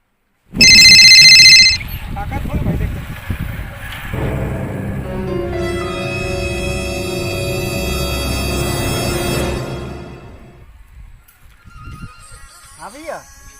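A loud telephone ring sounds briefly at the start, then gives way to steady voices over a sustained tonal background, with a short whistling sweep near the end.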